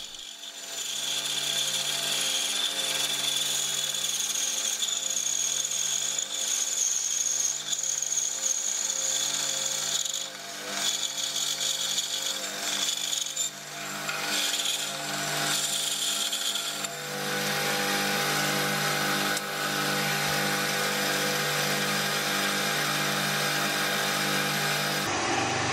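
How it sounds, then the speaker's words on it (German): A band saw whines steadily as it cuts thin slices of wood, loud and continuous, with the pitch shifting briefly partway through. "Jetzt könnt ihr ultradünne Scheiben schneiden, ohne dass das Sägeblatt verläuft."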